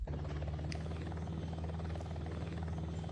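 Steady, droning rotor and engine hum of a helicopter in the video game Hostile Waters, continuous and even in level throughout.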